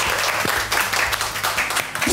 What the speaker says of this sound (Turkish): Alkışlayalım arkadaşımızı